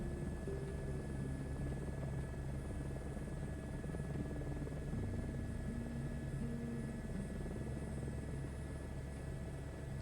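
An Airbus H125 helicopter spools up as throttle increases for lift-off, a constant dense rotor and turbine drone holding steady and loud, heard from inside the cabin with no talking.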